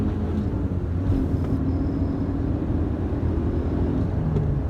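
A 1999 Subaru Forester engine revs hard while driving, a loud, dense low rumble with a steadily rising drone heard from inside the car, continuous throughout.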